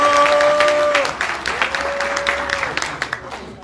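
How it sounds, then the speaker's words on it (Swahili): Applause for the Nakuru delegation at a Jubilee party county assembly gathering, a dense patter of clapping that thins out into scattered claps over a low steady tone. "Wapigie makofi Nakuru"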